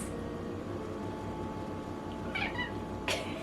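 A house cat meows twice near the end, short and fairly clear, against a steady kitchen hum while stir-fry vegetables with tofu are being prepared.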